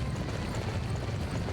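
A horse gallops in the video game Dynasty Warriors 9. The hooves beat in a rapid, even clatter that runs continuously at moderate loudness with no talking over it.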